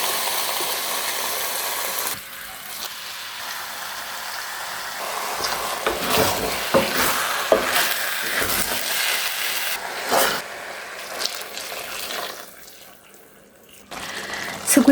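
Minced meat seasoned with black pepper, garlic and salt goes into fried tomato sauce for lasagna, and a steady hiss of cooking is broken by bursts of scraping and stirring in the pan, with a short lull near the end.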